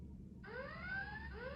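A Fingertec Face ID2 time attendance device's alarm kicks in after a brief quiet start, a steady electronic tone warbling and repeating in high pitched sweeps, loud and close, sounding because its bracket is disconnected.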